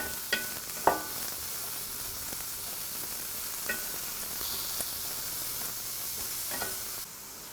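Eggplant pieces fry in oil in a pan with a steady, even sizzle throughout, broken by a few soft clacks of stirring.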